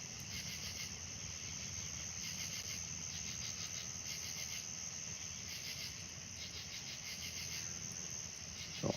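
Crickets chirp at night beside a pool, a steady, dense high trill in pulsing bursts that carries on evenly at a moderate distance, with a low background hum underneath and no talking.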